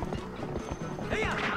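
A horse gallops over grass in a Zelda video game, its hooves making an evenly spaced clip-clop close by, with a brief whinny-like tone near the end over a busy game backdrop.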